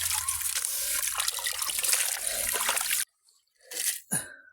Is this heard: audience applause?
no